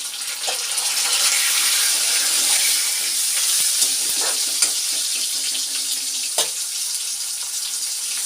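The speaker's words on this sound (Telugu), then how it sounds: "మిరగాయలు వేగినాయి కదండి ఇదిగో టమాటా కూడా వేస్తున్నాం ఇప్పుడు" Green chillies and tomatoes fry in a pan for coriander chutney, giving a steady, bright sizzle close at hand with occasional pops and crackles and no speech.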